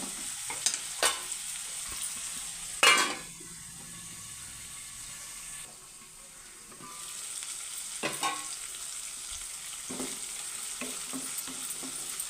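Green chillies and curry leaves tempering in oil in a pan, with a soft continuous sizzle broken by several sharp spoon-stirring scrapes and clinks, close and without speech.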